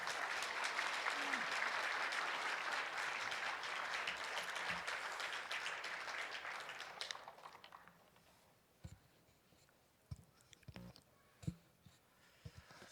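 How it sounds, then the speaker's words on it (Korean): A church congregation applauds to welcome a missionary serving in Taiwan as he comes forward at a Sunday worship service: dense clapping for about seven seconds that fades to silence, followed by a few scattered faint knocks and handling sounds. "나오실 때 사랑이 듬뿍 담긴 박수로 환영해 주시기 바랍니다."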